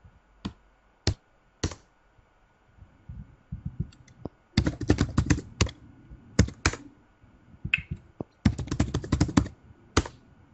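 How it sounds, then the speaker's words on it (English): Someone types a search on a computer keyboard, with sparse single key taps first and then quick bursts of close, crisp clicking, separated by short pauses. "you can just type in something you need"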